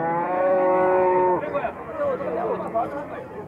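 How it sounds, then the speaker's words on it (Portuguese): Dairy cows at a cattle fair moo in long, loud, drawn-out calls, one after another and overlapping, close by, with crowd noise beneath. "Gente, tem bastante vaca aqui."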